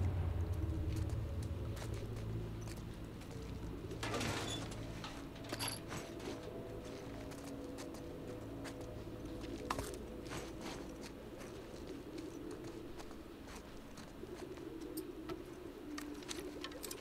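Pigeons coo in the background of a quiet scene in The Last of Us Part II, faint and intermittent over a low ambient hum, with occasional soft taps and rustles.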